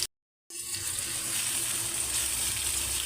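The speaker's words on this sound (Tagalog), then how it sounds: "Half cook lang natin ang ating sibuyas." Chopped onion sizzles steadily in a hot pan, half-cooked for beef bistek, after a short silence; a continuous close hiss with no voices.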